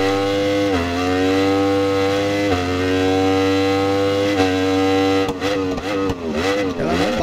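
Aprilia Tuono V4 1100 Factory motorcycle engine in the Ride 4 video game, a loud sustained high-revving whine with brief dips at gear shifts, then rapid revving fluctuations near the end.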